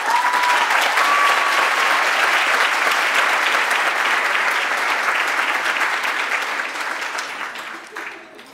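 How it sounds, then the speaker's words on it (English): Audience applauding for students at an address by Justice Eva Guzman to Subiendo students and parents, a steady, dense clapping that holds loud for most of the stretch, then thins and fades toward the end. "please join me in giving them a big round of applause"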